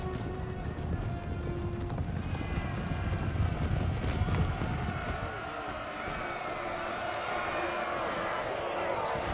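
Cavalry horses gallop in Empire Total War, with a steady, dense clip-clop of many hooves running across the battlefield while someone talks over it.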